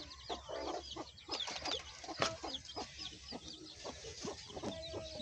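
Desi chickens and chicks on a backyard farm cluck and chirp nearby in a busy, overlapping stream of short calls, with a higher peeping mixed in, no talking.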